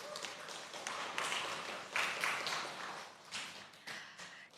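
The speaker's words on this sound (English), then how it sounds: "Let's give them another round of applause." An audience at a youth panel on business within planetary boundaries breaks into steady applause, a dense, continuous wash of many hands clapping, swelling in a few waves and holding for several seconds.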